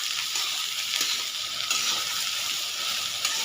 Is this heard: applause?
no